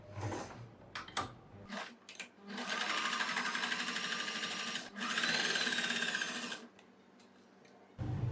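Sewing machine runs in two sustained bursts of stitching along the neck of a net kurti, with short gaps and handling clicks between runs, close and loud.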